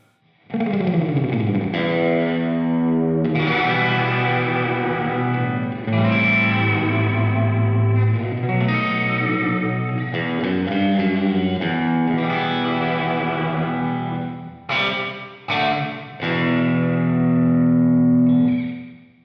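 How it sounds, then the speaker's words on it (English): Electric guitar played through the Valhalla Supermassive reverb plugin on a spring-like setting, sustained chords and notes with long washy tails and a few sharp plucks, loud and alone with no talk. "This does kind of like a spring reverb sound."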